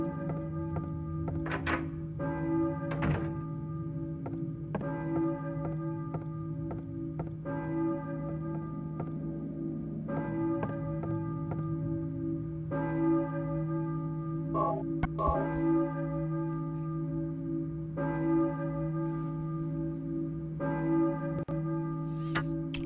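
A church bell tolls repeatedly in the video game Silent Hill 1, each deep, resonant strike ringing out and decaying over a steady low drone, with irregular spacing between strikes and no talking.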